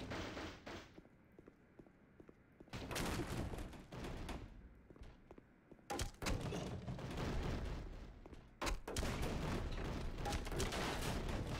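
Gunfire in the video game Black Mesa, with loud bursts of rapid shots arriving in several clusters separated by quieter stretches, close and sharp.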